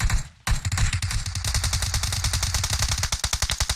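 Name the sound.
gunfire in PUBG Mobile video game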